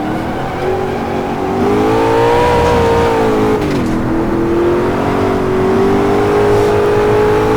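An Ultima GTR engine revs hard and steadily during a low-speed power slide, a loud, close, continuous drone with pitch rising and falling as the throttle works, briefly dipping mid-slide, with no talk.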